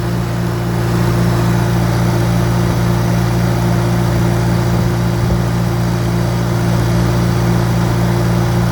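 A 1954 Farmall Super A tractor engine runs at a steady idle, a loud, continuous low hum with a constant drone that barely changes.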